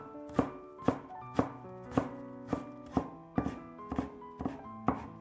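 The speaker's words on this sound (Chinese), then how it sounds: "然后切成细丝，切得均匀一些。 最后切成小丁。" A knife chops a vegetable into thin strips and small dice on a board, close and crisp, with about ten even, rhythmic strikes.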